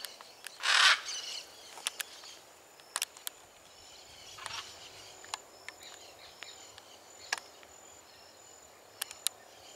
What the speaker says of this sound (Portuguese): Com as araras aí, ó.